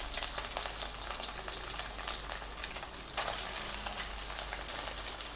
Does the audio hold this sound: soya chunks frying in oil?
yes